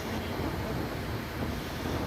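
Big ocean waves during a boat trip off Calbayog City, Samar: a constant loud rush of wind and surging water against the hull, with no voices.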